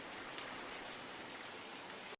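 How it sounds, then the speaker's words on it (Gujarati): Light rain falls in a steady, soft, even patter, faint and continuous for a couple of seconds before cutting off, with no voices. "થોડો વરસાદ આવે છે અત્યારે."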